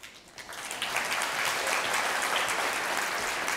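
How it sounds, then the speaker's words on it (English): Audience applause for a volunteer at a science lecture, a dense steady wash of clapping that swells quickly after a quieter start and holds on at full strength. "So an applause for Pietro."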